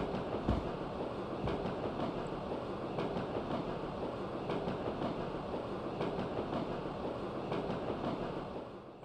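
Inside a train in the video game Echo Night, a continuous low rumble fills the space with faint rhythmic wheel clicks, steady and moderately quiet, without any speech.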